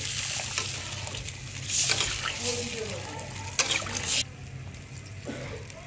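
Water poured into a rohu fish curry in a pan, a brief splashing rush and sizzle, close, with someone talking over it.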